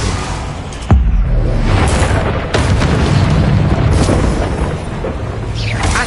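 Bombarda spell blasts in Hogwarts Legacy, a deep booming explosion that hits hard and rumbles on, followed by a second heavy blast amid continuous dense combat noise.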